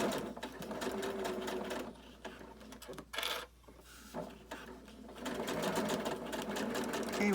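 A sewing machine stitches the casing of a fabric mask, running in a fast rhythmic whir that stops and starts with short pauses and handling noises in between, then runs steadily again at close range.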